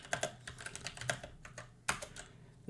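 Typing a git clone command on a computer keyboard at a terminal: a quick, uneven run of light key clicks with one sharper keystroke near the end, close and fairly quiet, with no talk.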